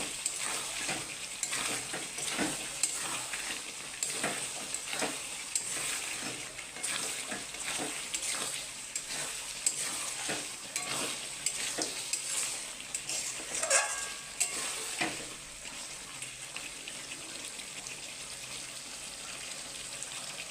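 Mutton stirred and fried in a wok, a steady close sizzle of hot oil broken by repeated scraping and stirring strokes throughout, with no talk.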